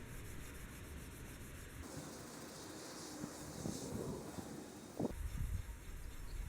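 Coarse steel wool scrubs old paint off a Wheel Horse Model 401 garden tractor fender, a faint, uneven rasping rub that grows louder toward the end, heard alone.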